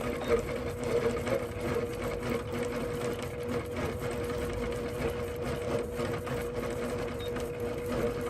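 Quilting sewing machine stitching small meandering patterns with the stitch regulator set low, a steady continuous whirring hum with a rapid mechanical needle patter running unbroken throughout.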